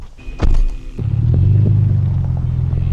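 A Toyota 4Runner rolling over off-road ruts, with a sharp knock followed by a steady low engine and tire rumble that stays close and continuous.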